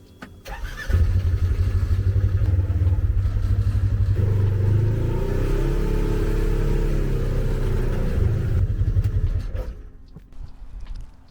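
Engine of a Polaris RZR side-by-side on 26 by 16 inch rims, rumbling steadily at close range as it is driven a short distance and then throttled back to idle.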